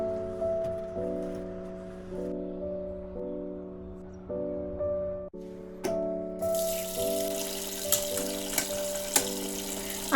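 Vegetables are washed under a running kitchen tap, a steady rush of water that turns into a louder, brighter splashing halfway through, heard over soft background music.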